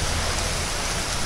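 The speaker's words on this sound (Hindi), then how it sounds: "ये देखो जी आज कितनी तेज़ बारिश है" Heavy rain pours down on a street in Hisar, Haryana, with water flowing through the drains: a dense, steady, loud hiss that does not let up, with no voices.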